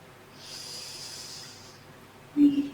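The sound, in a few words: deep breaths during a yoga session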